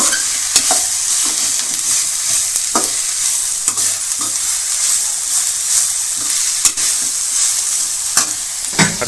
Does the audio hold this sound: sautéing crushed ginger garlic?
yes